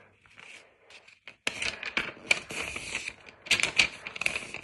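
A sheet of paper is folded by hand to make an envelope, giving close, crisp crackles and sharp creasing taps in irregular bursts that grow louder toward the end, with no voices.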